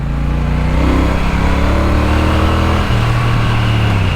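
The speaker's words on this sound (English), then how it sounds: "the engine is smooth and it does have that classic sound" A 2024 Triumph Bonneville T120 classic-style motorcycle engine rev, loud and close, with a smooth rising drone that shifts pitch partway through and mixes with steady wind noise.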